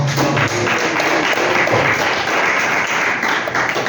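A church congregation claps together during a worship service, a dense, steady wash of many hands that carries loud and unbroken through the whole stretch with no talking over it.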